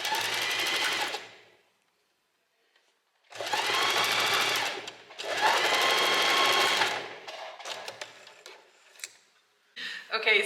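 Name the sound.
sewing machine top-stitching a folded seam on bedsheet fabric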